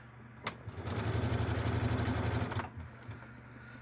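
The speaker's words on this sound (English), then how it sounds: "We're going to go ahead and sew all the way around." A sewing machine stitches around the edge of a Batman-inspired fabric bag in a steady rapid whir of about two seconds, with quieter handling before and after.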